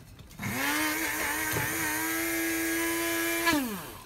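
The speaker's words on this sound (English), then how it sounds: "So I'll clear it and keep grinding again." An electric grinder grinds coffee beans for Turkish coffee, starting abruptly into a steady, loud, high-pitched motor whine that holds evenly for about three seconds before winding down, heard alone without talk.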